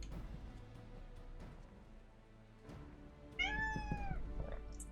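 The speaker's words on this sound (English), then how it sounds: "It's my cat who just screamed." A house cat screams and meows from some distance away, a brief rising-and-falling wail that stands out over a low room hum near the end.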